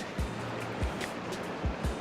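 Ocean surf rushes in a steady wash, broken by several soft low thumps of waves and water knocking nearby, all fairly faint, with no speech.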